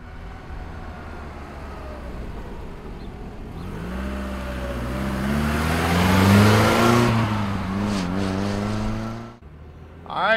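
A 1975 Chevrolet Cosworth Vega engine idles steadily, then climbs into a strong rev around the middle before settling back and cutting off near the end, heard close and alone.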